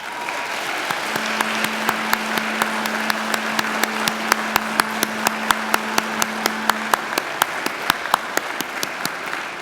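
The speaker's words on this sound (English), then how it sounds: "give them a mighty round of applause" A graduation audience claps steadily in a large hall, broad continuous applause from many hands, with a few louder individual claps standing out in a regular rhythm.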